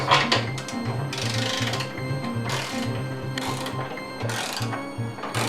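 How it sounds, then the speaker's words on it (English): Metal spanner working 13mm bolts on the front wing of a Peugeot 406, a rhythmic ratcheting, clicking mechanical sound repeating steadily at close range, with brief bursts of brighter metallic scraping. "We'll need to use a spanner on these ones because you can't get the socket in."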